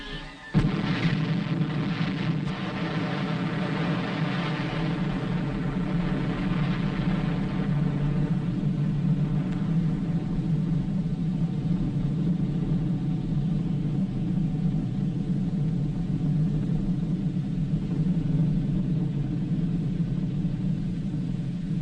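An atomic bomb test explosion in old archival film: a sudden blast opens into a deep, loud, sustained rumble that rolls on without letup for over twenty seconds.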